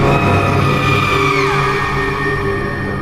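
A scream sound effect in a horror story, a loud, sustained wailing shriek with a gliding downward sweep, layered over a dense, droning background for the full three seconds.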